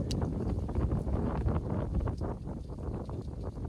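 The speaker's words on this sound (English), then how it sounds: "It's windy today." Steady wind buffeting the microphone, a loud continuous low rumble with gusty swells and faint rustling throughout.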